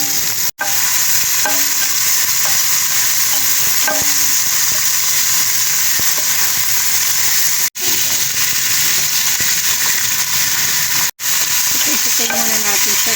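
Garlic and onion sauté in cooking oil in a pan with a steady, loud sizzle and hiss close by. Occasional stirring clinks and a few short gaps break the sound, and there is no talk.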